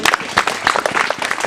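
Audience of clergymen and local leaders applauding at a ministry event in Teso sub-region, Uganda: a dense, steady patter of many hands clapping at moderate level with no speech over it.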